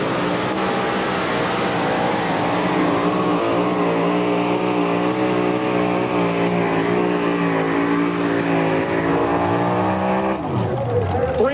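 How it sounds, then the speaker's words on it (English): A 640 cubic inch Keith Black engine in a two-wheel-drive pulling truck roars loud and sustained at a 1993 truck pull in Chapel Hill, Tennessee, holding high revs before dropping off near the end, with an announcer talking over it. "640 cubic inches of Keith Black motor coming at you."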